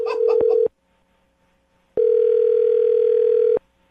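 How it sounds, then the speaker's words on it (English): A telephone ringback tone on a call, two long steady electronic rings with a pause between them, the first with a brief burst of voices over it. "I just dialed the phone number"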